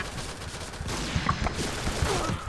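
Rapid gunfire from the online shooter Point Blank, a dense burst of shots with a few sharper cracks standing out against a busy game mix, with no voices.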